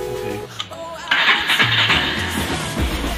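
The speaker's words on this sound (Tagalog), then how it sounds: "So, start natin yung motor." A motorcycle engine being started on a workbench during a rectifier test, cranking briefly before catching into a steady idle, with someone talking over it.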